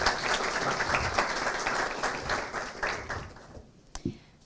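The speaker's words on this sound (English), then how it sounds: "Everybody, please give a warm round of applause" Warm applause from a forum audience welcoming a guest speaker, dense clapping that gradually thins and tapers off toward the end.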